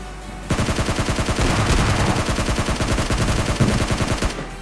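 Rapid automatic gunfire from the mobile battle royale game PUBG Mobile Lite, loud sustained bursts with dense repeating shots running nearly the whole time, alone without talk.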